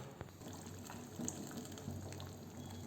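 Water pours steadily into a pan of veg kurma masala in one continuous, gentle gush, fairly quiet, with no talking.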